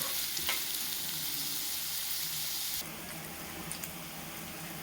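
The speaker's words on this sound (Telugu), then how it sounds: "ఉల్లిపాయలు బాగా ఫ్రై అయిపోయాయండి" Onions sizzle steadily in hot oil in a pan for prawn curry, a dense, continuous frying hiss that drops slightly in loudness partway through, with faint stirring scrapes and no talk.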